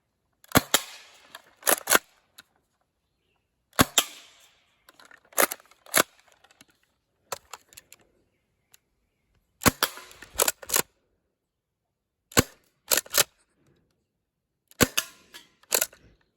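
A CYMA three-shot airsoft shotgun fires in sharp, loud bursts, mostly double or triple cracks, in clusters spaced a few seconds apart with faint handling clicks between them.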